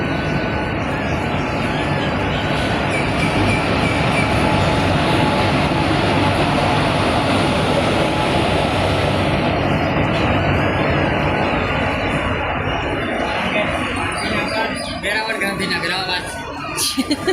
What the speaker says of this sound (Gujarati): જો આવી ગઈ ફાઇનલી ટ્રેન.